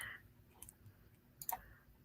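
A computer mouse button clicks a few times, faint and sparse, with soft sharp ticks against a quiet background.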